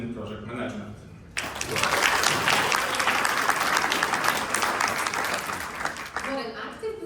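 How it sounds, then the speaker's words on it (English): A conference audience bursts into loud, dense clapping after a short stretch of talking, sustaining it for several seconds before it fades and a voice returns. "What an active group, everyone's clapping, I love it."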